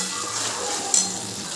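Masala paste for katla kalia hits fried onions in a pan, giving a steady soft sizzle close by, with a single faint clink of a utensil midway.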